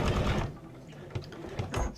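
A sewing machine running a back stitch on a small fabric bag for mini Easter eggs, a short close whirring burst that pauses and then resumes with brief stitching pulses, no talking.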